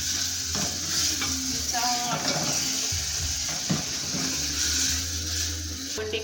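Tomatoes and paste fry for a chicken dish, a continuous close sizzle under intermittent stirring scrapes and clinks of a utensil against the pot.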